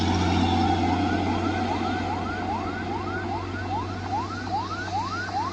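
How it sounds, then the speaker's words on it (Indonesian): An ambulance siren wails in repeated rising sweeps over steady traffic rumble, moderately loud and continuous, with no voices. "Waduh, ada ambulan."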